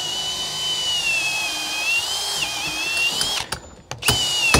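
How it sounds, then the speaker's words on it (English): A power drill with a 10mm bit bores through steel plate for a garden-room flitch beam, a loud close whining grind that holds steady, then briefly cuts out and restarts near the end. "I'm going to go down with the 10mm drill bit, just like we did before through the steel."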